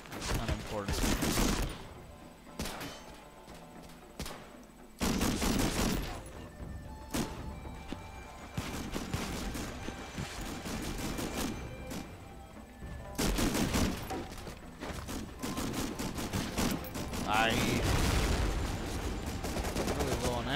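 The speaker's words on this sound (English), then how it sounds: "Somebody's on the MG again." Machine gun fire in an Xbox video game, with repeated loud bursts and scattered single shots across the clip, broken by short lulls, plus thuds and background game noise.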